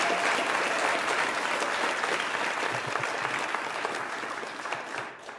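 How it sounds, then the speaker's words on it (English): An audience at a Youth of the Year 2024 awards show claps for the families in a dense, steady round of applause that runs for several seconds and eases slightly at the end. "Let's have a quick round of applause for all of our families"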